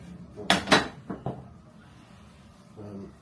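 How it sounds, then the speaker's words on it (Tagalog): A dish is taken from a kitchen cupboard, producing two quick ceramic clinks followed by two lighter knocks, close and fairly loud, then near silence with a faint low murmur. "You get me a dish out to put it into macaroni."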